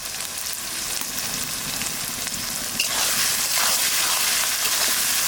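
Ginger paste, garlic and green chillies frying in hot oil for a mutton curry, a steady close sizzle that swells louder and brighter partway through as the pan crackles more.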